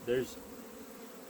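Honeybees in an opened nuc box, one brief loud buzz of a bee passing close at the start, then a faint steady hum.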